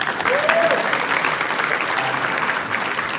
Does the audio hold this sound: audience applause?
yes